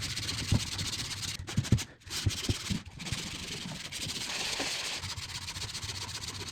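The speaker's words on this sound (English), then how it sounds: "So I'm just gonna give it a quick sand, and then hopefully it'll be ready to prime and paint." Hand sanding of a skim-coated wall patch before priming, a close, steady abrasive rasp of sandpaper with rhythmic strokes and a couple of short pauses early on.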